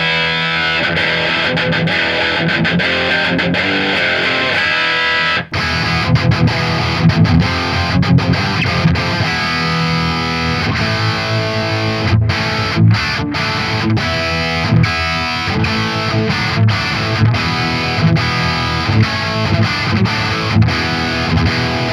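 A distorted electric guitar with a Guitar Madness PAF pickup plays loud test tones, sustained chords and riffs running continuously for over twenty seconds with no talking.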